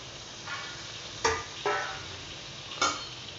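A spoon scrapes and stirs maida flour into butter in a kadhai with a few distinct knocks against the pan's metal, spaced irregularly over faint sizzling.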